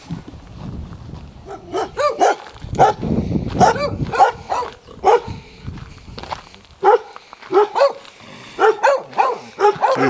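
Dogs in a Tenerife village bark repeatedly in short irregular bursts, some near and loud, others yipping farther off, with background rustle and footsteps between barks.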